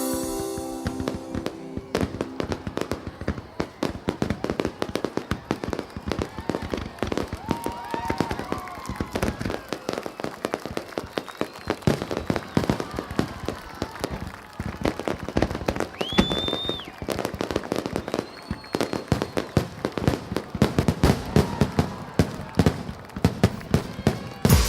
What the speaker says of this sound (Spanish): encuentran su contrapunto en los fabulosos espectáculos de fuegos artificiales